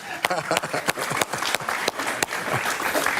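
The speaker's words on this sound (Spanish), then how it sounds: "un aplauso para José Luis" A television talk-show audience applauds for José Luis, a burst of dense clapping with sharp individual claps standing out and voices talking over it throughout.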